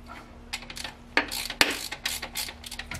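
A ratchet snugs down the cam cover bolts on a Mercedes M130 engine, their threads set in an aluminium intake, during a valve adjustment. Quick bursts of close, crisp clicking repeat several times on their own, with two sharp metallic ticks standing out.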